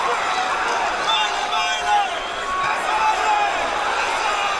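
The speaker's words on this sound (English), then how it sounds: "Crowd is very excited here." Excited crowd at a boxing match in Atlantic City, a steady roar of cheering and shouting voices filling the arena, with swells of noise rising and falling throughout.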